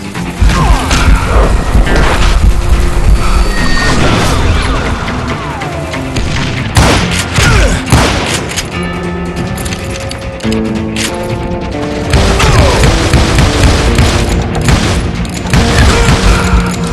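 Dynamite explosions and gunfire boom and crash almost without pause in the Call of Juarez: Gunslinger video game, set in the Wind River Mountains. The sound is loud and dense, with heavy blasts layered over rattling mechanical noise.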